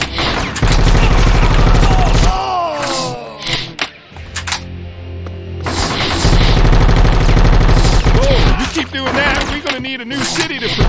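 Rapid gunfire from a Bad Boys: Miami Takedown shootout, with loud, dense bursts of shots that break off midway and then resume, backed by a steady low rumble while voices shout over the action.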